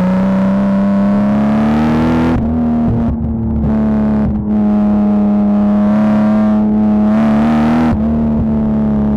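Toyota Celica running a twin-turbo 2JZ-GTE VVTi engine through a custom 3-inch pipe and canister-style Tanabe muffler, a loud, sustained droning exhaust that rises and dips through several revs, close and continuous.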